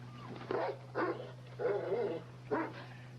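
Puppies, including a small black pup, give four sharp yapping barks spaced evenly apart, near and fairly clear over a steady background hum.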